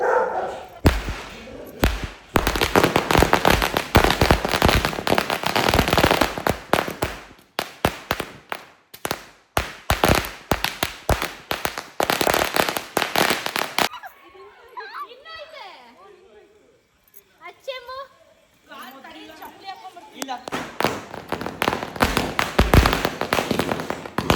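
Rapid crackling bursts of Diwali firecrackers go off in dense volleys at night, loud and close, pausing briefly while voices and children's shouts carry before the bursts resume.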